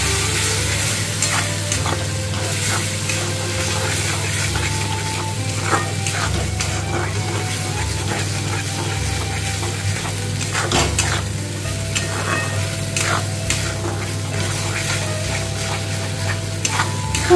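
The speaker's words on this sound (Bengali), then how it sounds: "টমেটো পেস্টটা এর মধ্যে দিয়ে দিলাম। দিয়ে ভালোভাবে এটা এখন কষিয়ে নিতে হবে।" Tomato paste sizzling with frying spices as it is stirred and cooked down for an egg and potato dalna, a continuous loud sizzle with a low hum beneath and frequent scraping, clinking spatula strokes against the pan.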